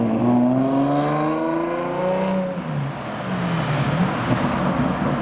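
A Lamborghini Diablo VT engine rises in pitch as it accelerates away, then fades and drops off, moderately loud amid outdoor traffic rumble.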